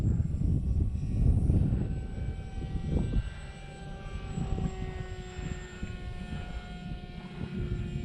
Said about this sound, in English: I love all the noise a pusher makes.